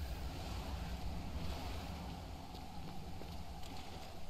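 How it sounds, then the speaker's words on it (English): Ocean waves in the survival video game Stranded Deep, a steady, close wash of surf and wind noise that rolls on without a break and with no talking. "The waves pushed it underneath."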